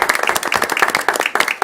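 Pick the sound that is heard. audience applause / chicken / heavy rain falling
audience applause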